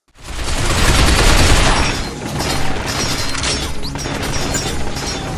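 Dense, loud gunfire in the shooter Binary Domain, a continuous roar of overlapping shots and impacts that swells at first, dips briefly, then carries on steadily to the end.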